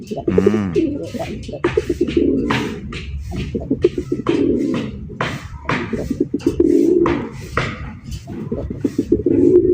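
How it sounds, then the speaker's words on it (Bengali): Pigeons coo steadily and close by, deep rolling calls overlapping one after another with hardly a pause. "কত সুন্দর ওয়েদারে খোলামেলা অবস্থায় কবুতর ডাকতেছে"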